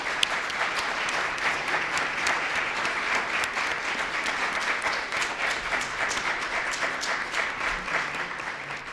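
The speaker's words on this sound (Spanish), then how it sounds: "les pido por favor a todos ellos un aplauso muy grande," Steady, dense applause from an audience at a horror literature event, the Jornadas Horror 8 book presentation of "Hoffmann en México", continuing evenly throughout without voices.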